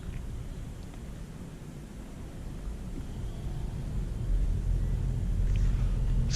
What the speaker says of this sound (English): the road noise that this makes, it's very relaxing